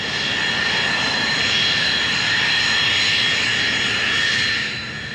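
Aircraft engine holding a steady, loud roar as power comes up for takeoff, a broad sustained whine with bright high tones, easing slightly at the very end; no voices.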